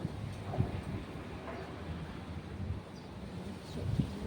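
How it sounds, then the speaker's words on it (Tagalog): Steady outdoor wind in hot Kuwait, a low rumbling gust noise with faint rustling, moderate and continuous with slight swells. "Oo, mahangin pa."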